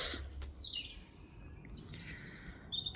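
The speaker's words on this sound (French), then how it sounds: "au son des oiseaux" Birds sing outdoors during a sunny breakfast, with bright chirps and whistled phrases over a soft steady background, moderately close and with no voices.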